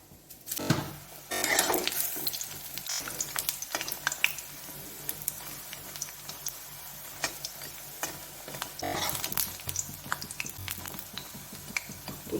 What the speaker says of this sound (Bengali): এদিকে আমি বড়াগুলো ততক্ষণ ভেজে নিই